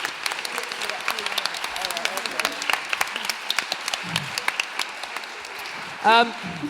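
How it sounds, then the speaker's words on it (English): Audience applause at a folk concert, a dense patter of clapping that carries on steadily, with voices mixed in and a brief louder burst near the end. "can we have a big round of applause for them, please, and all their hard work"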